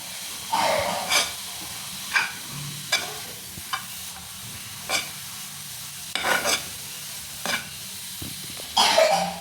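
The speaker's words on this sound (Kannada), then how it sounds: "ಇನ್ನೇನು ಮಾಡ್ಬೇಕಂದ್ರೆ ನಾವು ಸ್ವಲ್ಪ ಫ್ರೈ ಮಾಡ್ಕೋಬೇಕು" Cauliflower filling for gobi paratha fries in a pan, a soft steady sizzle under repeated scraping stirs of a spatula, roughly one stroke every second, close and moderately loud.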